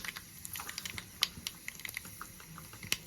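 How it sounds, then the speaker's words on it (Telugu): Mustard seeds splutter in hot oil in a small pan, a quiet run of sharp irregular pops and crackles close by. "ఒక చిన్న స్పూన్తో ఆవాలు వేసుకుంటున్నాను. చిటపటలు అవ్వాలండి."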